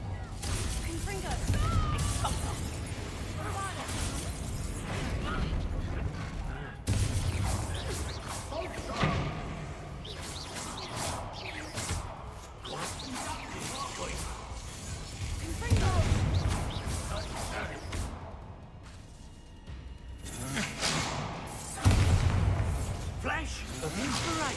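Fiery Confringo spell blasts in Hogwarts Legacy combat burst out as repeated crashes, shattering and heavy booms over a dense, continuous wash of game action noise, with voices at times.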